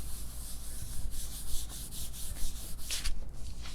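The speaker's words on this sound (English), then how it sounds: "we're going to turn it over and rub the back for like 15 seconds or so" Steady rubbing of a hand over the back of a sheet of glued paper in a name-creature symmetry art project, a continuous close, soft scratchy friction with gentle rhythmic strokes and no talking.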